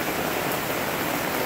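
A sudden heavy downpour during a storm over Peterborough, dense, steady hiss of rain pouring down close by with no let-up, heard alone.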